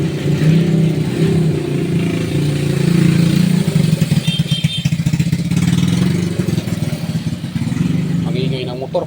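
A motorcycle engine runs loudly nearby, rumbling and revving unevenly, with a brief higher whine partway through.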